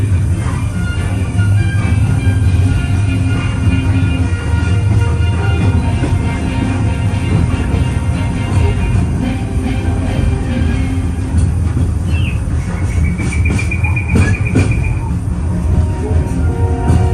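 The Disneyland Paris Railroad steam train rolls along in a loud, steady rumble of wheels and carriages, with a brief high squeal near the end.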